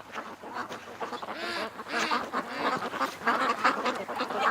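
Muscovy ducks quack and call in a swamp, several overlapping rough calls coming in bursts that grow louder toward the end, with no speech.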